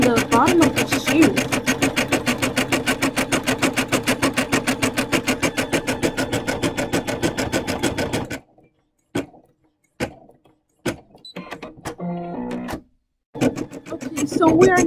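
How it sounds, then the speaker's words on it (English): An embroidery sewing machine stitches the bottom of a shoe design on a T-shirt, running a loud, fast, steady needle rhythm for about eight seconds, then stopping and giving a few short separate bursts before starting up again. "Sewing the bottom of the shoe."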